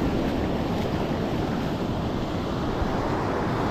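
Big ocean waves surge and break in an uneven crisscross over a sandbar and deep gutter on a fishing beach, a loud, continuous wash with wind buffeting the microphone throughout.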